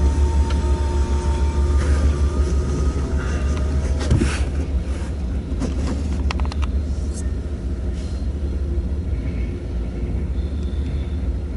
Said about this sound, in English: let's see what we get here on this now northbound manifest, heading for the Sioux City subdivision